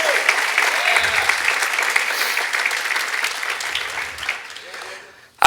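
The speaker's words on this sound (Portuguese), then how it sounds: "Se é para Jesus, você pode aplaudir." An audience at a Christian church event applauds for about five seconds, a loud, dense, sustained wash of clapping that gradually thins and fades near the end.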